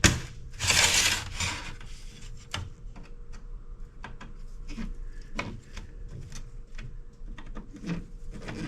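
Jammed screws are loosened on an Apple peripheral circuit board from 2009, giving a series of small ratcheting clicks and scraping ticks at an irregular rhythm after a brief louder rustle, with no talking.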